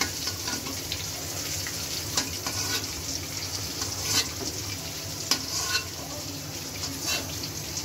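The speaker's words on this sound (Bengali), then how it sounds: "ডিম লাল লাল করে ভাজি করে উঠিয়ে নিই।" Eggs fry in a pan, browning with a continuous close sizzle and hiss, and a few sharp spatula clinks cut through the noise.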